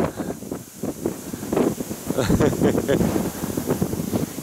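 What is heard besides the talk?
wind blowing on a lake during a duck hunting boat trip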